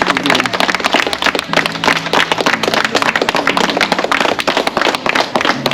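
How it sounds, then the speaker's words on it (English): A crowd gives a round of applause for visiting guests, the clapping dense and close throughout, with voices mixed in underneath. "We give them a round of applause."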